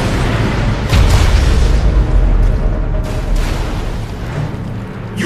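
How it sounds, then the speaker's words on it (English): A nuclear weapon detonating in the strategy game C&C: Rivals, a loud, sustained low rumbling boom that swells near the start and rolls on with dense crackling debris for several seconds. "Nuclear weapon launched"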